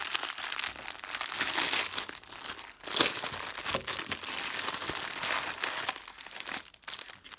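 Plastic packaging around diamond painting sticker sheets crinkles and crunches as it is opened, a steady close rustling with a sharper tear-like burst near the middle and quieter handling toward the end.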